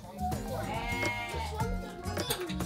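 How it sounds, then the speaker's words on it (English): A goat bleats in a few wavering, nasal cries, moderately close, amid busy background noise and occasional low thumps. "A sheep? A goat."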